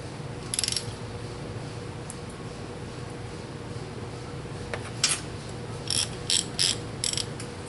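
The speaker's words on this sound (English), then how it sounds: "And we'll tighten that down, each one of them down to 30 foot-pounds." Torque wrench tightening the cylinder head bolts on a 2007 Mini Cooper S R56, with short bursts of close ratchet clicks at the start and several more toward the end over a quiet background.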